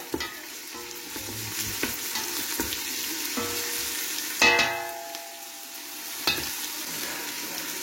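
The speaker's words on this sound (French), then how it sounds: "je vais mettre une première partie 150 g d'oignons. Voilà, on mélange bien" Sliced onions sizzle in a pan for chicken pastilla, with a steady frying hiss and repeated spoon scrapes and knocks as they are stirred, close up with no voices.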